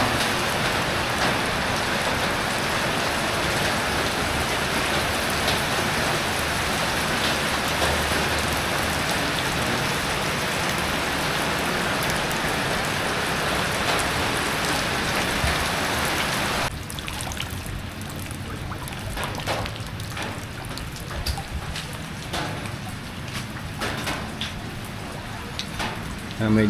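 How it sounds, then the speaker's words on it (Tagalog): Steady heavy rain pours during a typhoon in a flooded residential area, a dense continuous hiss that eases slightly partway through but keeps falling, with faint speech mixed in. "Medyo tumigil na yung ulan."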